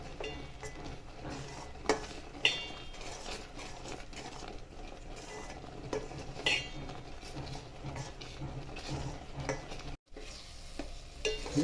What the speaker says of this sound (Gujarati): ધીમે ધીમે હલાવવું